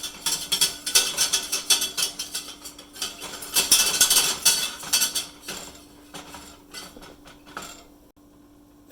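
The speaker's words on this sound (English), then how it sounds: "Continue to stir until it starts to clump up." A utensil stirs flour into a roux in a pot, giving rapid rhythmic scraping and clinking against the metal, loud and busy for most of the clip before easing off and falling quiet at the end.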